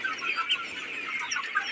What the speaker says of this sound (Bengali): মুরগি দেখেন কেমন হয়েছে